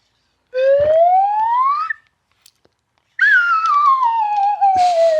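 A loud purple slide whistle glides upward in one long rising note, pauses, then slides slowly back down in a second sustained tone.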